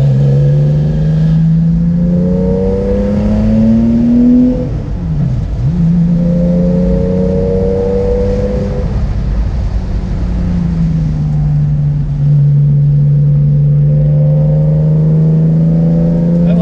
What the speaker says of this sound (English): in this video you will hear our beautiful exhaust sound